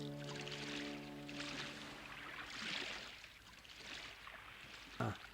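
Oars splash and water washes around a rowboat in an animated film, a soft, steady swishing over faint tones, with a single sharp knock near the end.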